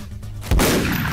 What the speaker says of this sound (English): Couple shots there.